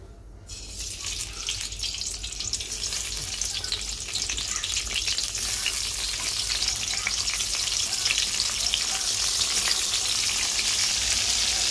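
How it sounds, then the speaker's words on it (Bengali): Eggplant frying in hot oil in a home kitchen while khichuri cooks, a steady, dense sizzle that swells slightly and holds loud and close throughout, no voices. "বেগুনটা দেখো ভেজে নিচ্ছি"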